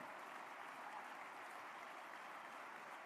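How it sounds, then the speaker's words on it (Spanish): A press conference audience breaks into faint, distant applause, a steady soft patter of many hands lasting a few seconds without any voices over it. "Y se escuchan aplausos."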